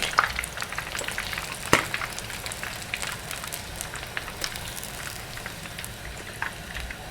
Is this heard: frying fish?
yes